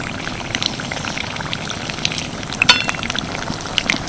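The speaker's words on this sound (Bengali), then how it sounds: "ফিশ ফ্রাই ভাজার সময় যদি তেল খুব গরম থাকে তাহলে কিন্তু সঙ্গে সঙ্গে এই ওপরে কোটিংটা কালো হয়ে যাবে" Fish fry pieces coated in batter crackle and sizzle steadily in hot oil, a dense continuous frying hiss with a few sharper pops, close and moderately loud, no voices.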